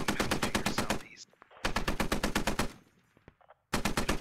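Rapid machine-gun fire in the military shooter Squad rattles in loud sustained bursts, breaks off briefly, then resumes.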